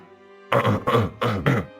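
An older man coughs in a few harsh, throaty bursts, close to the microphone, with short gaps between them and quiet before.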